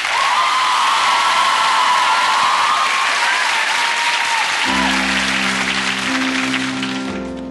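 A TV studio audience applauding and cheering for a singer's first live performance, loud continuous clapping with whoops, then music entering underneath as the applause fades.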